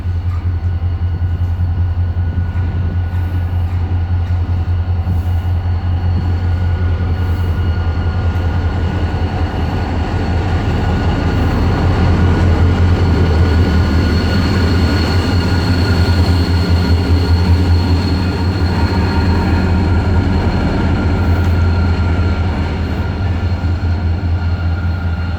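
A GMU diesel locomotive, number 304712, runs light engine on the Karachi railway near Gaddar, its steady low engine drone and rolling wheel noise loud and continuous throughout, swelling slightly midway as it passes.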